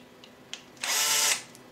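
A cordless drill gives a light taper to holes in a grinding wheel adaptor. A few faint clicks come first, then one short, sharp whir lasts about half a second, close by, before it winds down.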